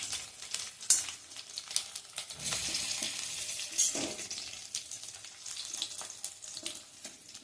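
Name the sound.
sautéing cloves, peppercorns, chillies and garlic in a pan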